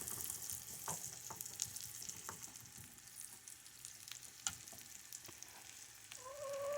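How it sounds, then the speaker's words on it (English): Onions softening in melted butter in a pan give off a faint, steady sizzle broken by scattered light pops and the odd scrape, quiet and continuous with no voices. "You just want these onions to get a little soft, okay?"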